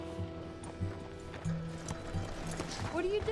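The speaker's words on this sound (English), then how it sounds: "Let's hitch the horse." Horse hooves clip-clop at a steady walk in the Red Dead Redemption II video game, with a brief rising whinny near the end, all set against a soft background music bed.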